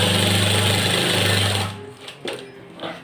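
Close, loud rapid stitching from a sewing machine runs along a shirt edge for about a second and a half, then stops, leaving a few quiet handling clicks and taps.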